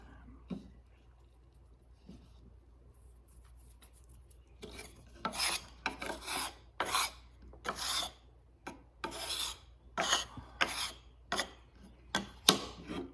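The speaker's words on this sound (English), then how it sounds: "And I will go ahead and rub it out just a little bit more even." Flake pipe tobacco being rubbed out by hand, a dry rasping rustle in repeated strokes that start faint and grow louder and steadier, close up with no talk over it.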